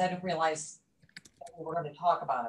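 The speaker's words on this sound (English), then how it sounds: "I was typing the answer to the questions." A few soft, quick computer keyboard taps fall in a brief pause between stretches of a person talking during an online video conference.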